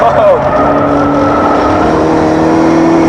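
An early-90s Honda CRX is driven hard around Sydney's Oran Park race track, its engine holding a loud, steady high-pitched drone close by for the whole stretch.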